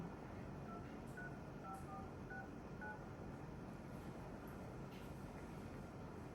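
A series of short electronic keypad tones, about eight beeps in an uneven dialing rhythm, faint over a low steady background hum.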